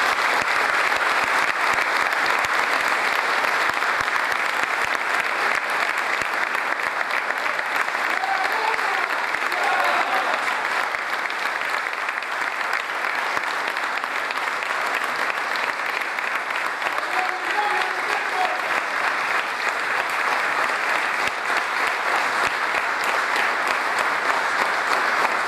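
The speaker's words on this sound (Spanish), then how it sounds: "aquí están los héroes de Malvinas que merecen ese aplauso de todos ustedes." Dense, sustained applause from a large crowd honoring Malvinas war veterans at a municipal ceremony in Reconquista, steady and loud throughout with no break or speech over it.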